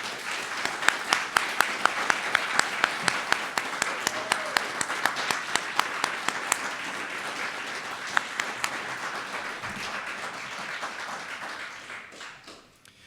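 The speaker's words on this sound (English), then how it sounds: "Please join me in a round of applause for Michelle, Adelina, Daniel Jr., and Ethan." Audience applause at an Army retirement ceremony at West Point, a long sustained round of many hands with distinct sharp claps standing out early, gradually thinning and tapering off near the end.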